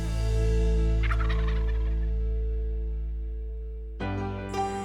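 A Rio Grande wild turkey in Oklahoma gobbles with a loud, rich rattling call, followed by a second, shorter gobble a few seconds later. Steady low-pitched noise underlies both calls.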